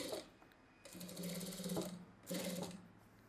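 A sewing machine runs a line of edge stitching on the lining of a boat-neck saree blouse, with two close, steady bursts of rapid stitching separated by a brief pause.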